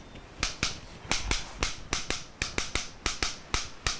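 Steve Reich's Clapping Music is played as finger snaps, with crisp, close snaps falling in a quick, interlocking, syncopated pattern that repeats steadily with no talk.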